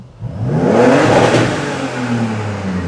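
A Mercedes W124 with a 3.0 engine on an EMU Classic engine management system is revved hard at full throttle, roaring loudly as it climbs, then holding a high steady drone; no one speaks.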